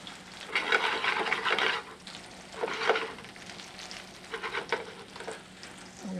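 Lobster mushrooms sizzle in butter in a pan, bursts of crackling frying swell and fade in three waves as they are tossed and stirred, fairly close, no talking.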